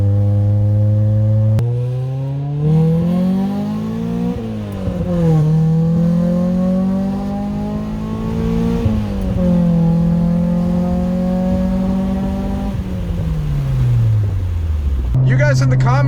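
A Honda Prelude exhaust drones steadily while cruising at 3,000 RPM, a low buzzing hum with slight pitch rises and dips, close and continuous.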